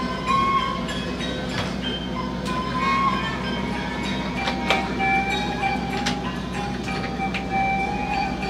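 A commuter train on the Garut line pulls into the station with a steady low rumble, faint wheel clicks and squeals, and a melodic chime, all close and continuous.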